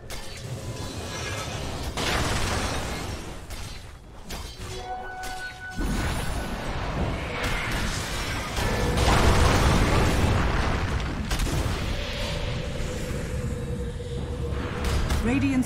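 Dota 2 match with a tower under attack and destroyed, busy game sounds of clashing, booms and crashing impacts layered under an announcer voice, continuous and dense.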